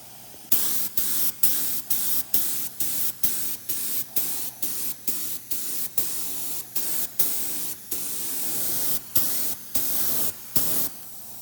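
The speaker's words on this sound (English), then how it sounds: "So we're going to start by applying part A, and you can always add more material into your, more of the part A solution into your HVLP sprayer" An HVLP sprayer applying part A of a two-part wood bleach onto walnut sapwood, in a long series of short, evenly repeated hissing bursts with brief gaps between, close and steady.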